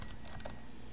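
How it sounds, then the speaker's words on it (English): Rapid keystrokes on a computer keyboard as a password is typed into a terminal, a short close burst of clicky taps with no talking. "type in my"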